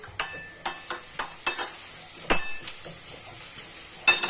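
Seasoned tilapia fish being turned over in a hot frying pan, with sharp clinks of a utensil against the pan over a steady, close frying sizzle, with no talking.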